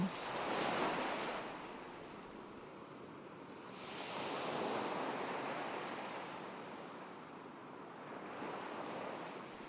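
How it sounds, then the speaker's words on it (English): Ocean waves surge and recede in slow, broad swells, with wind rushing across the microphone; no voices. "Listening to the waves, slowly switching again."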